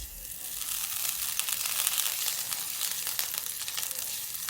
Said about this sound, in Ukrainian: В сковорідку додаю вершкове масло.